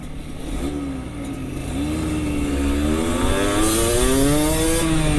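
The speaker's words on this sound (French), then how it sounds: "Elle roule très bien sa petite moto." A small 125cc motorcycle engine accelerates close by, its pitch climbing through several gear pulls with a clattery, buzzing tone that grows louder and steadier.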